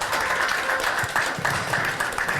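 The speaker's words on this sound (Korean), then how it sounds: "큰 박수 부탁드리겠습니다" Audience applause at a women's policy agreement ceremony for a presidential candidate, a steady wash of clapping that holds for a couple of seconds, with surges and dips, before cutting off abruptly.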